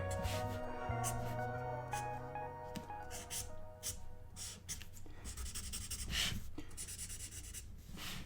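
A pen or pencil scratches across paper while sketching a G.I. Joe figure, with short irregular strokes close by beside a low background hum.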